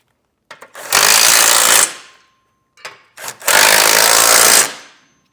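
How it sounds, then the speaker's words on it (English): Two bursts of a pneumatic impact tool driving a 3/4 inch socket to snug bolts on a Roadmaster Direct-Connect base plate kit fitted to a 2022 Jeep Grand Cherokee, each loud rattling run lasting about a second, preceded by short taps. "I'm going to take a 3/4 inch socket and just snug these down."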